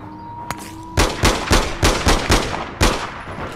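A burst of gunfire in the video game APB Reloaded: about seven loud, sharp shots in quick, even rhythm, a short pause, then one more crack, close and without talk.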